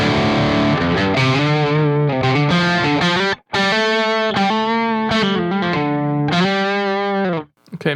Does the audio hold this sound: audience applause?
no